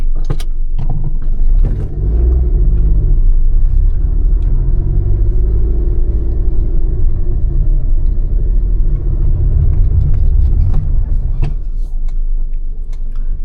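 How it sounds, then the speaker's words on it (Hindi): A manual car climbs a steep incline, its engine a loud, low, continuous rumble with a few faint knocks and clicks, and no voices. "इसके लिए मैं गाड़ी को थोड़े और ज़्यादा स्टीप इंक्लाइन पे ले जाऊँगा"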